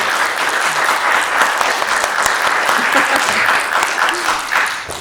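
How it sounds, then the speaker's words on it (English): A room full of people applauds at the Romford Film Festival after a filmmaker is introduced, the clapping thick and continuous throughout, swelling slightly midway before easing off at the end. "We have a round of applause, please"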